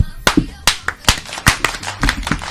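Hand claps on a talk show panel, a series of sharp, close claps in an uneven rhythm, more than four in all, with faint voices in the background.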